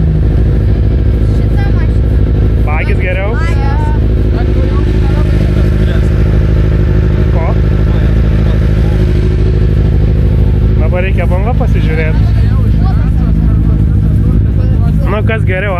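An off-road buggy or Audi car races at the Uoginiai auto-moto sport complex track, its engine roaring loudly and steadily with rising revs and clattering, while voices mix in underneath.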